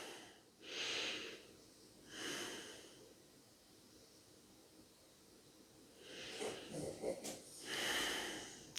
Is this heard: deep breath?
yes